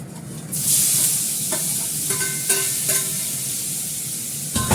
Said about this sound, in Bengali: আলুটা সঙ্গে দিয়ে দেবো, এটার সঙ্গে ফ্রাই হয়ে যাবে